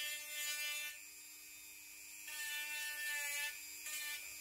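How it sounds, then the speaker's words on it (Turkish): A Dremel sanding attachment smoothing the surface of a gourd gives a steady high-pitched whine. The pitch shifts slightly as the tool is pressed against the shell. No one speaks. "Şimdi bu kısmı isterseniz yine dremel zımparayla ya da kağıt bir zımparayla düzeltebilirsiniz."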